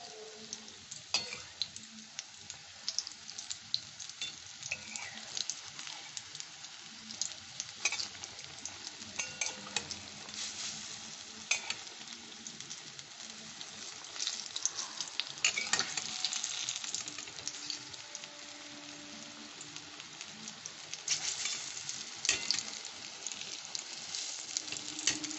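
Brinjal fritters sizzle steadily in hot oil as a fresh batch fries, a continuous bright crackle with occasional stirring and utensil clinks, close and alone without talk.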